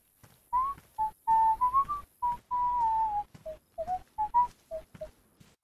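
A person whistles a lilting tune alone outdoors, a string of short and sustained melodic notes with brief pauses between phrases, close and fairly loud.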